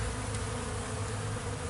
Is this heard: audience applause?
no